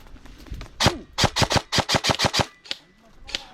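Airsoft guns fire during an outdoor airsoft game: one shot, then a rapid string of about eight sharp cracks, followed by two more spaced shots, fairly close and loud.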